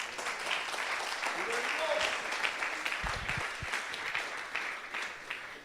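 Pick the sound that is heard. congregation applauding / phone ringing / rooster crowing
congregation applauding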